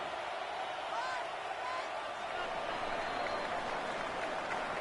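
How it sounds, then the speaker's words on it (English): Stadium crowd in a Madden football video game at Levi's Stadium roars in a steady, dense wall of cheering and applause, loud and continuous, building before a third-and-long play in driving rain. "The crowd cranking it up another notch before 3rd and long."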